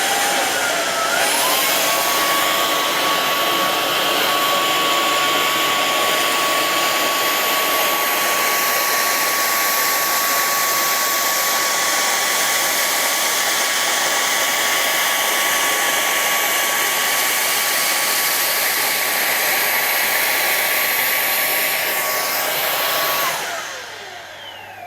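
Proscenic P10 Pro vacuum cleaner running its rotating brush across an Ikea rug, a loud steady motor whine with a constant high tone that holds for about 23 seconds before dropping off at the end.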